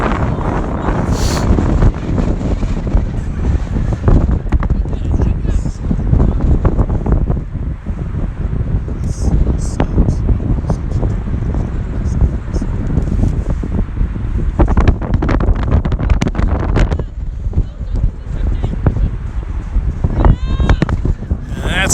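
Strong wind buffets the microphone at an outdoor football match, a loud, continuous rushing roar lasting the whole stretch, with a voice speaking faintly beneath it.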